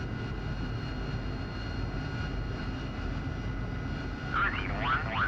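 Aircraft engine drones steadily as a jet taxis toward the runway in the DCS World flight simulator, with a constant low hum and a brief warbling tone near the end.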